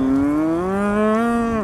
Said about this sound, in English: herd of a few hundred head of cattle here has water to drink and green grass to graze on these wide-open Eastern Plains pastures